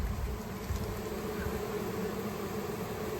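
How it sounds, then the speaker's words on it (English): A honeybee swarm fanning around a hive entrance gives a dense, steady buzzing hum, close and continuous throughout with no talking. "they're sort of fanning at this one entrance here"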